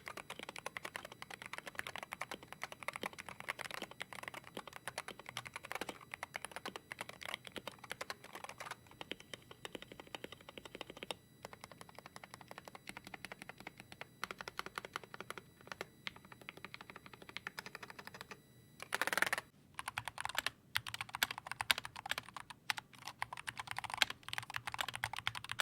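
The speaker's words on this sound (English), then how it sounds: "They almost feel like you're typing on professionally filmed and lubed boutique switches." Someone types on a Wooting 60HE gaming keyboard with filmed, lubed switches, producing a continuous close stream of soft, muted keystrokes with brief pauses and a few sharper bursts.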